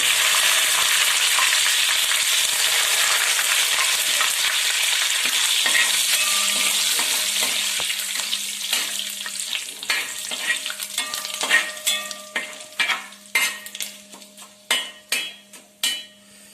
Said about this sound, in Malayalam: എണ്ണ നല്ല ചൂടായിരിക്കുന്നത് കൊണ്ട് നല്ല സൗണ്ട് ഉണ്ട്.